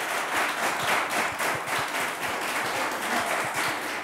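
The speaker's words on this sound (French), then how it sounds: "Merci d'applaudir pour vous-même." Warm studio audience applause on a French TV game show, continuous clapping with some rhythmic individual claps standing out, loud and sustained across the moment.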